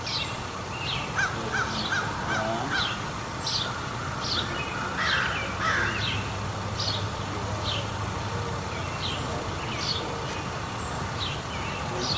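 Birds call repeatedly outdoors, including harsh crow-like caws, over a low background rumble, spaced irregularly throughout.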